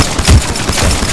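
Rapid gunfire in a battle royale video game, a quick burst of punchy automatic shots lasting about a second, loud and close, with no talking.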